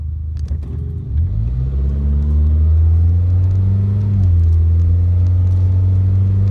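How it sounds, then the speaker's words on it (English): A car engine rumbles low and close, revving up after about a second and holding a strong, droning roar with slight shifts in pitch. "the guy next to me is revving his engine to get my attention"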